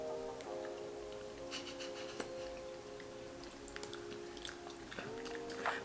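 Crunchy snacks brought back from El Salvador are chewed up close in short irregular crunches over a steady background hum, with no talking.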